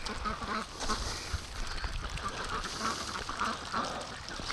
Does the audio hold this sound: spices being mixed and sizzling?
no